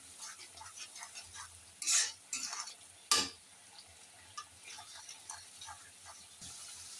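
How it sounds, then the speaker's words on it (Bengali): Spices stirred and fried in a pan for a sea fish curry, with a low steady sizzle and a few sharp scraping clatters of a utensil against the pan, close by. "তারপর মশলাগুলো ভালো করে নাড়াচাড়া করে কষিয়ে নিতে হবে"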